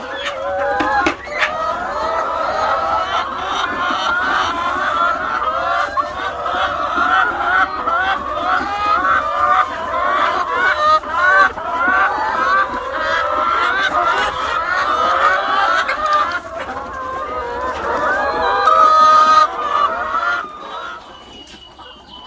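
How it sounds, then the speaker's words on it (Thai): Laying hens at a Thai egg farm being fed in their cages in the evening, a dense, steady chorus of clucking and squawking close by that continues without a break. "มาให้อาหารแม่ไก่ไข่ของเรากัน"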